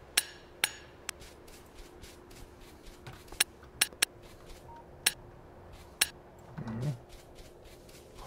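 Clicking and tapping from wall repairs in the video game Factorio, a scattered run of sharp, distinct ticks at irregular intervals, with a brief low rustle near the end. No one talks.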